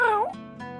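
A small black cat meows once, a drawn-out, bending cry at close range, followed by a short softer second call in a quiet game scene.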